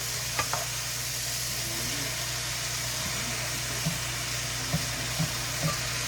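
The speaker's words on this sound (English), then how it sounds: "Now you can start mixing the Brussels sprouts and the other veggies in together" Brussels sprouts, thinly sliced cabbage and other vegetables fry in oil in a pan while being stirred, giving a steady, close, dense sizzle with occasional soft scraping knocks from the stirring and no talking.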